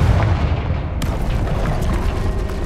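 A Confringo blasting spell explodes in Hogwarts Legacy: one sharp, close blast strikes about a second in, then rumbles and crackles over a steady low background.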